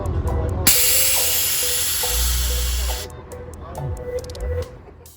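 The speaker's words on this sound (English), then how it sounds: "the compressors are dumping air back into the tank" A car's air suspension drops with a loud, sustained hiss of air being released for about two and a half seconds, followed by shorter puffs and mechanical clicks as compressors work nearby.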